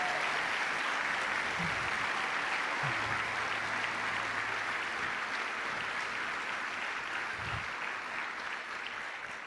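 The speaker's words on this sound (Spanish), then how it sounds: "Dale un aplauso grande al Señor." A church congregation applauds continuously, a dense sustained wash of clapping that holds steady throughout with no speech over it.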